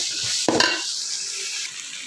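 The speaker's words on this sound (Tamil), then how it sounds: "இது ஒரு அஞ்சு நிமிஷம் வதங்க விடலாம்" Onions sautéing in a pan for a sardine curry: a steady, fairly loud sizzling hiss, with a brief stir or clink of a utensil against the pan early on.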